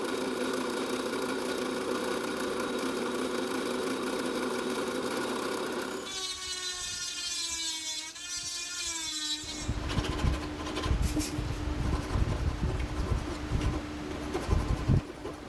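A 2x72 belt grinder rounds a metal tsuba (sword guard) for a katana, a steady mechanical hum that gives way to a sharper whine and then a gritty, rasping grind of metal on the belt, close and loud.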